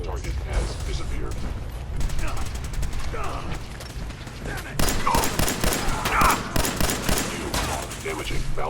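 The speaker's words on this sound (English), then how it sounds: "Taking fire!" Gunfire crackles in the video game Fallout 4 as rapid rattling bursts and mechanical clatter run continuously, with in-game voices speaking over the fight.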